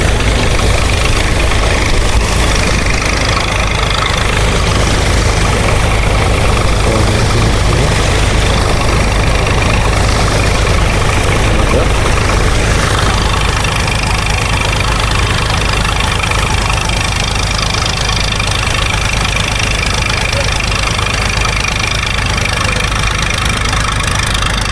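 Heavy oil engines run steadily at a dewatering works at a construction site, a dense, continuous low rumble and mechanical drone that holds at the same loud level throughout with no pauses.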